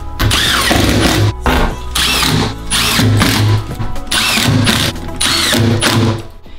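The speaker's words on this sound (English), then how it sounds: "We went ahead and affixed these onto the walls with our fasteners and our screws." Power drill driving screws to fasten boards to a wall during a crackle glazed tile installation, loud close whirring bursts that rise and stop in four or five repeated runs.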